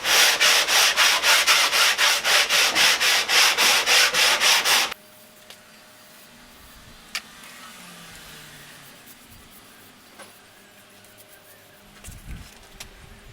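Sandpaper rubs back and forth on a pipe in a yard, loud rhythmic scraping strokes for about five seconds, then quiet outdoor background with faint knocks.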